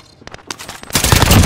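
Hostile gunfire in the video game Plunder: a few sharp scattered shots at first, then a dense, loud burst of continuous automatic fire filling the end.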